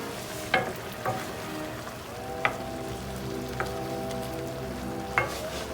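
Butter worked into a pot of Southern-style shrimp and grits, a steady low sizzle and bubbling under a few distinct clicks of a spoon against the pot, close and unaccompanied by talk.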